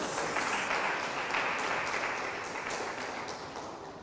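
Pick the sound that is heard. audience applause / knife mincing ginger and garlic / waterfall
audience applause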